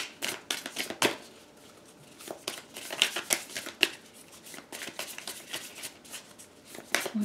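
Tarot cards being shuffled close by in quiet, uneven riffling bursts, with short pauses between shuffles and no talking.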